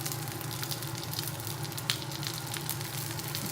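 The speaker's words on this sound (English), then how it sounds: "I'm just gonna saute this." Baby yellow squash sautéing in a pan gives a steady, soft sizzle at moderate distance, even and continuous with a faint crackle partway through, and no voices.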